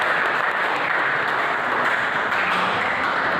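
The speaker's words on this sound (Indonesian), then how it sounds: "Beli tepuk tangan dulu dong untuk kelompok" Dense applause for a student group after a classroom presentation, steady clapping from a small audience lasting a few seconds without speech.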